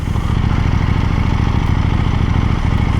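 A KTM 890 Super Duke motorcycle engine drones steadily and loudly while riding, a constant dense rumble with no let-up and no voices.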